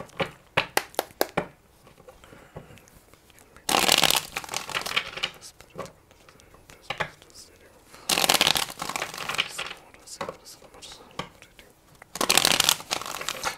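Tarot cards shuffled by hand in three loud bursts of riffling and flapping, with quieter card handling and soft taps between them; no talk over the shuffles.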